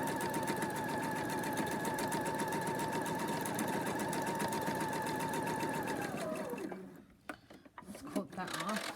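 A sewing machine running steadily for free-motion embroidery stitching, a loud continuous whirring drone that stops near the end, followed by a few clicks and handling noises; a voice speaks briefly over it.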